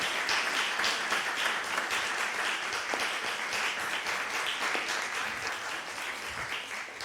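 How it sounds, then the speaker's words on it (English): An audience applauds a guest speaker at a talk, steady dense clapping that stays loud throughout without a break. "Let's give a round of applause for Soren."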